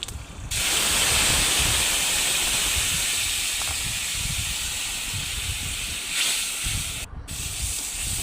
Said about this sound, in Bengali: তেল গরম হয়ে গেলে কড়াইতে তেজপাতা পাঁচফোড়ন দিয়ে মশলাটাকে কষিয়ে নেব